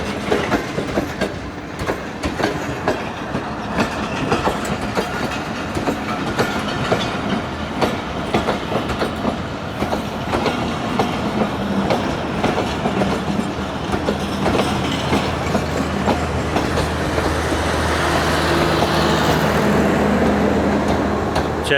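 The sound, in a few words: Awam Express train arriving at Attock City Junction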